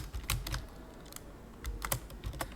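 Code being typed on a computer keyboard, a quick run of sharp clustered keystrokes in irregular bursts, close and fairly quiet, with no voice.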